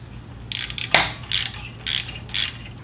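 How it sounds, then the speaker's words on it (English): A ratchet loosens a 12 mm exhaust clamp bolt on a Yamaha WR250R motorcycle, giving several short bursts of rapid clicking separated by pauses, close and clear. "we got a 12 millimeter on the clamp here. We'll loosen that up."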